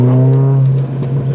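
A car engine on a track drones loudly with strong steady harmonics as it accelerates under a driving instructor, with a voice speaking over it throughout.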